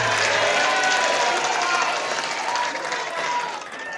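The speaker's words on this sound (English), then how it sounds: "Another loud of applause for baba wa kila mtu." Loud, dense crowd applause at a Kenyan political rally as Raila Odinga is welcomed on stage, a steady roar of clapping that fades slightly toward the end.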